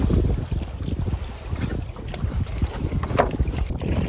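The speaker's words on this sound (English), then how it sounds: "It's been windy." Steady wind roars across the open water of Lake Aziscohos, buffeting the microphone from a canoe, with gusty rumble and faint water splashes, loud and continuous throughout.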